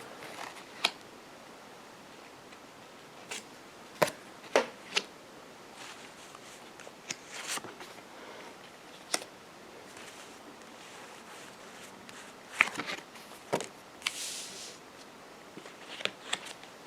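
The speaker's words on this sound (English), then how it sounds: "I'm shuffling the cards." Tarot cards are shuffled by hand at close range, giving faint, sparse clicks and soft riffling snaps scattered irregularly over a quiet background.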